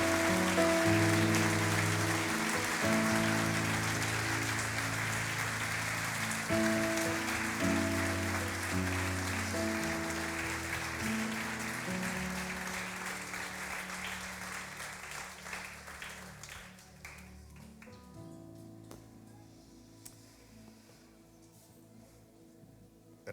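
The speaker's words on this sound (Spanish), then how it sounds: "Dale un aplauso fuerte a él." An audience at a church service applauds loudly for a speaker, a dense sustained clapping mixed with music that gradually fades over about twenty seconds until only scattered claps remain.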